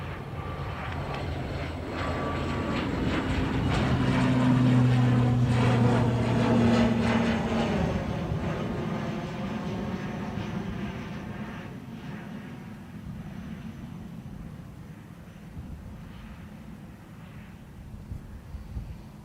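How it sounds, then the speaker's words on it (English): A Qatar Airways Boeing 787 Dreamliner lines up on the runway at Dublin Airport, its engines giving a steady, broad roar that swells to a peak and then slowly eases off, heard from a distance with no talk. "Qatar Dreamliner lining up for Doha."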